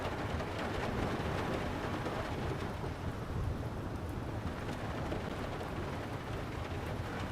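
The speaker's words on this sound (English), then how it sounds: "We've got some thunder too." Steady heavy rain with low rumbling thunder in UBOAT, a dense continuous wash of noise throughout with no voices.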